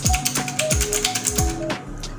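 Mechanical gaming keyboard with blue switches clacking in a quick run of crisp, clicky keypresses, close up and distinct, with a steady hum underneath.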